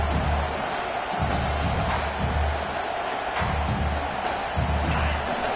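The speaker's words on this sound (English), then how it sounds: "Listen to this crowd just shaking the girders of this place, trying to help their defense." A packed football stadium crowd at a Texas A&M versus Oklahoma game roars in a dense, steady wall of noise that swells slightly at moments, with a low rumble running underneath throughout.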